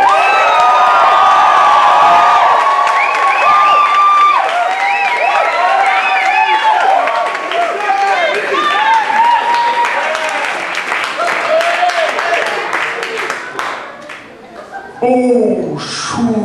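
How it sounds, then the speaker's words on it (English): A large crowd claps and cheers to welcome an act onto a stage, loud sustained applause with whoops and shouts that thins out toward the end before a voice speaks over the last moments. "I want you to welcome the first of those with a massive, massive Monkeyshine round of applause"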